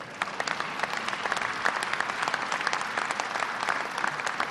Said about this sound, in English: Y'all need to clap on that one.